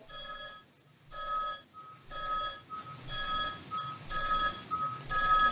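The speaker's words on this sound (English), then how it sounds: "Phone is getting louder" A telephone rings in a simulated indoor room, with six evenly spaced electronic bursts separated by short pauses, each burst a little louder than the one before as if the phone is getting closer.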